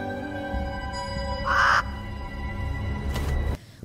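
A one-eyed crow gives a single loud, harsh caw over a tense, droning film score, with no speech.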